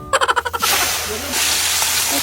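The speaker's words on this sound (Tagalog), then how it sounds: "Kaya mabilisang prito lang ang mangyayari dito" Chicken feet deep-fry in dark, heavily used oil that sizzles and crackles loudly, after a few short rhythmic bursts at the start, a steady hissing fry that continues throughout.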